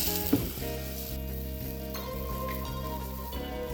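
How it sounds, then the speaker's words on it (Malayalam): Masala dosa batter hitting a hot griddle, a steady close sizzle with a brief clatter near the start, then continuous frying hiss under faint tonal background music. "നമുക്ക് മാവ് ഒഴിച്ച് കൊടുക്കാം."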